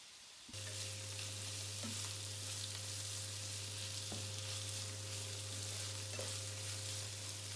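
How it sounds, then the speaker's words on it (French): Onions and bell pepper fry in a pan for a tomato sauce, a steady close broadband sizzle that starts abruptly after a short quiet moment, with a low constant hum and a few light clicks of stirring. "Il faut frire les oignons et puis le poivron."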